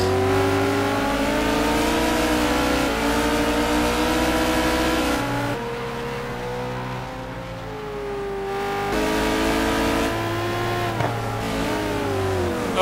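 A Corvette race car in a sim racing game at the Aldo Scribante circuit, its engine revving steadily with rising and falling pitch through gear changes, loud and continuous with no talk.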